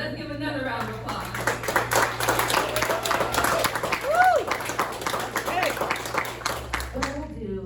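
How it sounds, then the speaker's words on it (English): Lively clapping from a city council meeting audience builds after a short spoken phrase, with a cheer or whoop rising over it, then fades as someone speaks again. "So let's give another round of applause."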